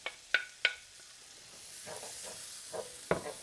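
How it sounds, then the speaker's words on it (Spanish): Half a medium onion hitting melted butter in a pan, a few sharp clicks and scrapes of the utensil followed by a rising, gentle sizzle that settles into steady frying. "Disuelta la mantequilla, procedemos a echar media cebolla mediana."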